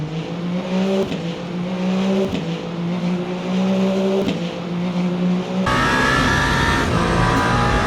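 A race car in the Le Mans Ultimate racing game accelerates hard out of a slow first-gear right-hander at Le Mans, its loud engine note rising through gear changes with a sharper surge near the end, alone without talk.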